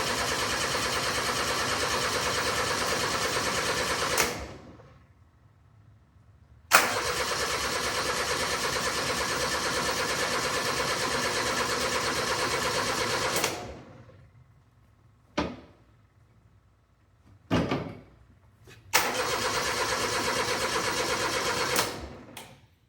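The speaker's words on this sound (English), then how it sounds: "So let's go ahead and give it some cranking." A Kubota gas engine on a Steiner 230 tractor cranks without catching, with long, loud, steady bursts of starter churning broken by pauses and a few short stabs at the key.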